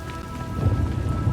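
Heavy rain pouring steadily with a deep rumble of thunder rolling underneath in Star Wars: The Old Republic, loud and close, no voices.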